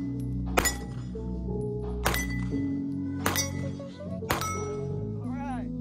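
Four Smith & Wesson CSX pistol shots ringing off an 8-inch steel target, each a sharp report followed by a lingering metallic clang, evenly spaced about a second and a half apart, with faint talk between.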